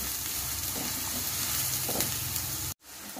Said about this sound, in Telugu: ఆనియన్స్ బ్రౌన్ రంగు వచ్చేంత వరకు ఫ్రై చేసుకోవాలండి